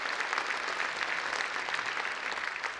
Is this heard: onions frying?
no